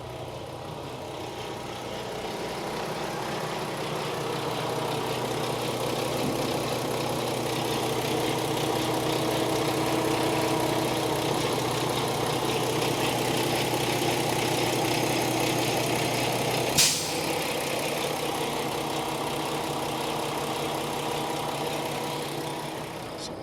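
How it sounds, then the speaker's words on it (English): A custom 2017 Kenworth T680 truck with a 510 hp engine idles steadily and quietly, a continuous low hum with an air compressor running, and a brief sharp click or hiss near the end; no talking. "The engine is actually very, very quiet."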